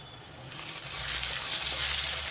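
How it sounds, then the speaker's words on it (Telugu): Onions fry in a pan, a soft hiss that swells into a steady, close sizzle, with no talking. "ఇవి వేగుతున్నాయండి ఇంకొంచెం వేగనిస్తా ఉల్లిపాయలు"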